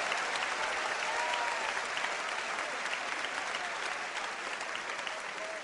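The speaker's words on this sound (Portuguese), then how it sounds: "Aplauda ao Senhor, porque você está debaixo da misericórdia" Steady applause fills a church service, a congregation clapping continuously and evenly at moderate distance for several seconds, with a faint murmur of crowd voices underneath.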